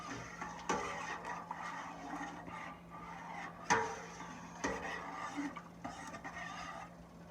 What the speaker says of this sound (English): You put the rest of the stock in here. Stir it in real good.